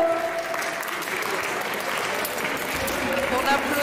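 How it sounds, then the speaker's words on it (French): Audience applause at an épée fencing tournament, a steady dense wash of clapping from a crowd that carries on evenly through the moment, with some voices mixed in. "On applaudit bien fort."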